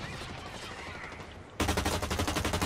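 Gunfire in the shooter game Blacklight Retribution: a quieter stretch gives way to a sudden, loud burst of rapid automatic fire that keeps hammering continuously to the end.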